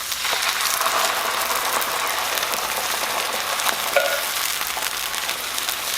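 Peppers and pineapple sizzling in a pan while cooking down for sweet and spicy Thai meatballs: a dense, even hiss that runs without a break at close range, with a few faint crackles.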